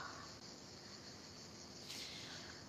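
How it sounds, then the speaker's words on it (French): Cicadas chirp in a steady, continuous high buzz that persists throughout, fairly faint and alone with no talking. "Et on entend le bruit des cigales à nouveau"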